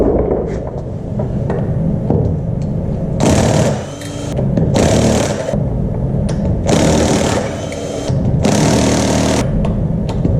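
Impact wrench backing bolts out one at a time during a clunk repair, fitted with a chrome socket: four loud, sustained buzzing bursts of two to three seconds each, close up over a constant engine-like drone.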